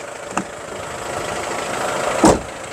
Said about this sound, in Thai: แล้วฟังเสียงเครื่องยนต์นะครับผม